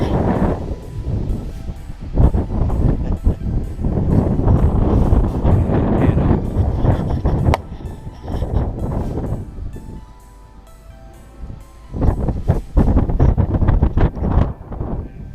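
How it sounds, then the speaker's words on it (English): Strong wind gusts batter the microphone on a mountain summit along the Art Loeb Trail in late November, loud rumbling buffeting that comes in waves, easing briefly near the end before surging again. "Sorry for the wind if you can't hear anything."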